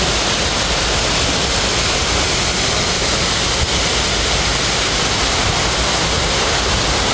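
A loud, unbroken roar of falling water, dense and steady, as if standing close to a waterfall in Lisbon, Portugal.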